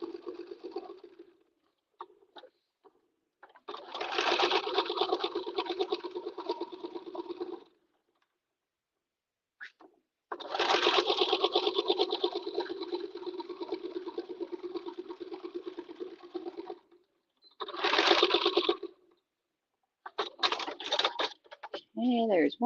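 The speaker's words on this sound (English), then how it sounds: "I'm just doing 1/8 of an inch stay stitch all the way around because you are binding this" A sewing machine runs an eighth-inch stay stitch around the edge of a backpack tote in two long steady whirring runs and a short burst, separated by pauses, with brief talk near the end.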